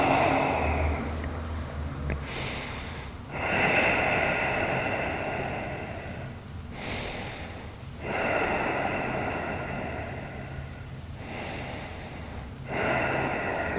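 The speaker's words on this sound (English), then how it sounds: "Take a few breaths in a pose." Slow, deep breathing during a yoga hip-opening pose, with long audible inhales and exhales repeating in steady cycles about every four to five seconds, close and fairly loud with no talking.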